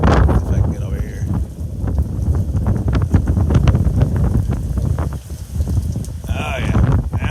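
Gusty wind from Hurricane Henri buffeting a campground among campers, a loud, rough, continuous roar against the microphone with rustling bursts, while a person talks faintly underneath.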